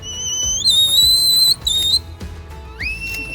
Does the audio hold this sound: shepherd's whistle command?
yes